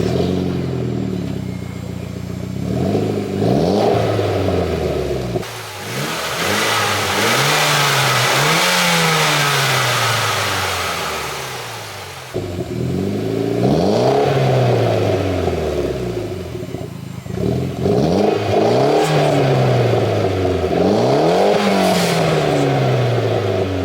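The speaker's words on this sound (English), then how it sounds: "And some exhaust sounds." A Mitsubishi Evo X FQ300 engine revs repeatedly, climbing and dropping in pitch with crackling exhaust between bursts, loud and close with no talking.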